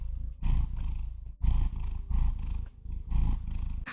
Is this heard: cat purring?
yes